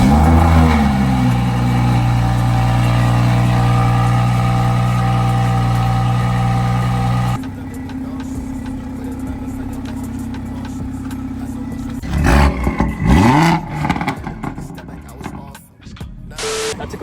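BMW 340i with B58 engine and VRSF downpipe cold-starts with a loud, steady high idle that drops lower partway through, followed by clunks and handling noises nearby.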